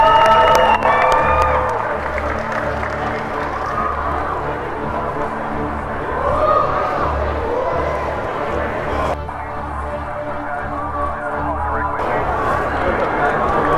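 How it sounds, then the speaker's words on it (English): A crowd cheers, whoops and claps at an outdoor marriage proposal, a steady lively roar with shouts rising and falling while someone talks over it. "Come on, y'all clap it up"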